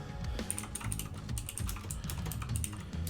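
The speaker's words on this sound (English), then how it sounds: "And yeah, I know my keyboard is really loud." A loud mechanical computer keyboard clatters with rapid, continuous typing, the keystrokes close and crisp in a steady uneven patter, alone with no voices.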